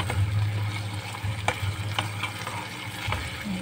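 String beans for adobong sitaw fry in hot oil in a pan, a loud steady sizzle close up with occasional scrapes and clinks of a spatula stirring, no talking.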